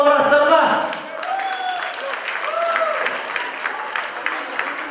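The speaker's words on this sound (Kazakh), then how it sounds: "Ал, бойы ұзын жігіттерге бір шапалақ ұрасыздар ма?" Audience applause at a 60th jubilee celebration, steady dense clapping running the whole clip, with voices and music-like tones mixed in beneath it.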